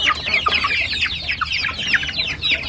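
Rapid chirping and clucking from native chickens and chicks, a busy overlapping chorus close by with a steady low background hum.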